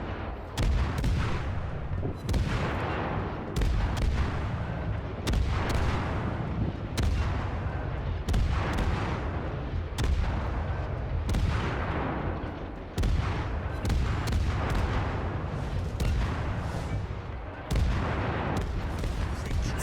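Naval gunfire in World of Warships from a Leningrad destroyer, heavy booming salvos repeating roughly every one to two seconds for about twenty seconds, loud and continuous with a rumbling background.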